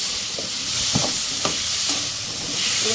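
Chopped tomatoes for a Dharmapuri-style fish curry sauté in a pan with onions and salt, giving a broad, steady hiss with occasional soft scrapes from stirring, close and fairly loud, with no talking.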